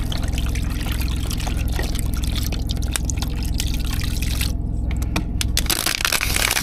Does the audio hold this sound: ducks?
no